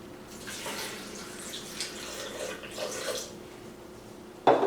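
Water pours steadily for a few seconds into a smoothie, a splashing flow like a tap filling a container, ending with a sharp louder splash.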